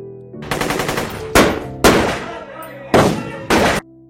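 Bursts of rapid automatic gunfire, loud and close, in several separate volleys with short pauses between them.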